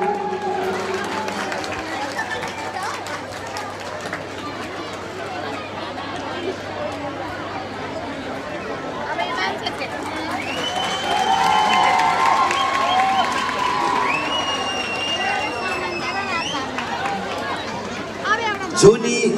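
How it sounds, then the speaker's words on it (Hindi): Large crowd at a live outdoor program in Siliguri, a continuous dense babble of chatter with occasional cheers and whistles rising through it, steady and fairly loud throughout. "देखो कितना भीड़ है अभी तक।"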